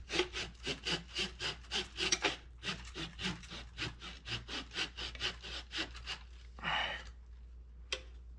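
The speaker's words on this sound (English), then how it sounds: "I may have to trim off some of that wood right there." A hand saw trims wood on a swivelling piece, its steady back-and-forth strokes close and rhythmic in two quick runs, then a short rasping scrape and a single sharp tick at the end.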